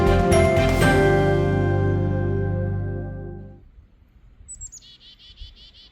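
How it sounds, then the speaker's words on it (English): During a winter snow storm, a small bird chirps in a quick, rapid run of bright, close notes, following a loud fading tone and then a quiet stretch. "You hear the bird?"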